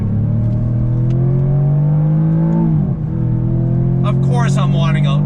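A 2021 Jaguar F-Type sports car's engine drones loudly, then its pitch drops and blips up sharply as the car downshifts under braking, with a voice talking over the engine noise.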